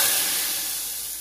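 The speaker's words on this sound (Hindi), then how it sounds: "बड़ी सोहनी आवाज़ लगती है मैं तड़का ला की" A loud, brief burst of sizzling as spices hit hot ghee, fading slightly over about a second.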